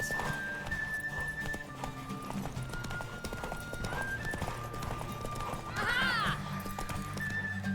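Horse hooves clip-clop at a steady galloping rhythm in The Witcher 3: Wild Hunt, with a whinny partway through, under game music and someone talking over the gameplay.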